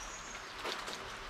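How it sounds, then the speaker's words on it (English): Steady rain falls on a roadside shelter roof during a bike tour in southern Armenia, giving a close, even hiss, with a brief louder patter near the middle. "And it's raining properly."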